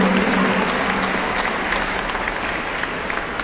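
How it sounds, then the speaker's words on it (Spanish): Crowd applause at the opening ceremony of school games in La Unión, Antioquia, a dense, steady wash of clapping from many hands that holds throughout without a break. "Démosle un fuerte aplauso a la bienvenida al juego deportivo"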